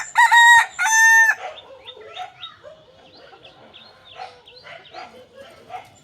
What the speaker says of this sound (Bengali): কত সুন্দর দেখো লাল ঝুটি কাকাতোর মতো মোরগা মুরগিটা